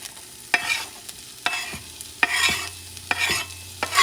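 Green and red peppers, onions, cilantro and culantro sautéed in a pan, with a soft sizzle broken by several sharp, evenly spaced scrapes and taps of a spoon as it is stirred, close up.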